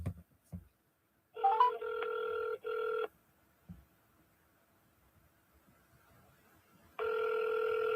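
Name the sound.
telephone ringing during an outgoing call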